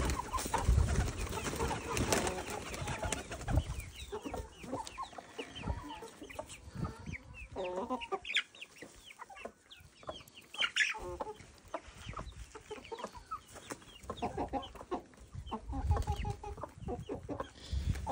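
Chickens cluck and chatter steadily at close range while being fed on a farm, with occasional louder calls and background rustling throughout.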